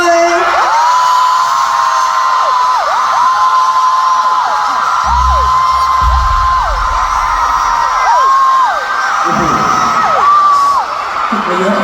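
A large crowd cheers and shouts continuously at a concert, with whoops rising over a steady roar and a voice calling out above the noise.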